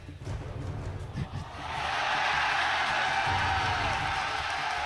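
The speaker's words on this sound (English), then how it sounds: "They're chanting Do It." A large esports arena crowd at a League of Legends match roars and chants together, swelling into a loud, sustained wash of voices after a caster speaks over the start.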